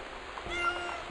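A human voice imitates a cat's meow, a single soft, drawn-out mew heard alone and fairly faint.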